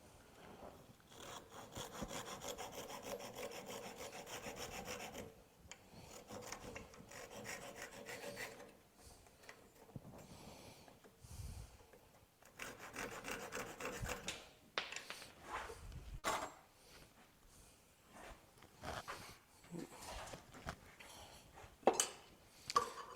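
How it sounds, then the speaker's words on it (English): A hand saw cuts through a wooden ladle blank with long rhythmic back-and-forth rasping strokes, close by, pausing now and then between bursts of sawing. "Okay, get the saw again."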